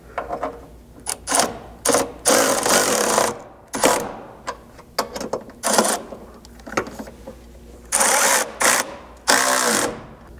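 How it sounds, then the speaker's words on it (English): Socket wrench on a half inch socket tightening 5/16 hardware on a Crusader rock slider on a Jeep Wrangler JL: bursts of rapid ratcheting clicks, loud and close, separated by short pauses. "then you can switch to a half inch socket to tighten all the 5 16 hardware between the pinch weld here and the slider"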